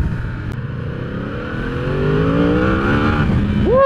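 A new Yamaha R1 sport motorcycle revs hard under throttle while riding. The engine note climbs steadily in pitch and grows louder, close and continuous.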